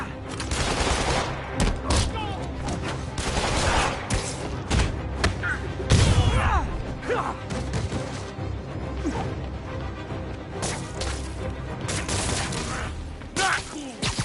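A PS4 video game fires bursts of gunfire, dense crackling shots mixed with thuds, crashes and game effects that keep going nearly throughout at close, steady loudness.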